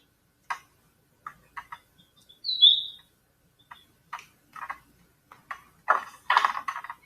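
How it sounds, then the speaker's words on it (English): A small bird gives a bright, sharp chirp amid scattered short ticking and rustling sounds in an otherwise quiet setting. "Somewhere, a bird sang."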